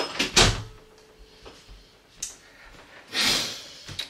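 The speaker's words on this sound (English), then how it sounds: "I gotta close my studio door" A studio door being pushed shut, with a couple of sharp bursts of knocking and thudding around it and softer handling noise between, fairly close and with no talking.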